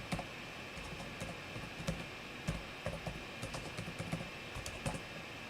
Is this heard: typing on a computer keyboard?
yes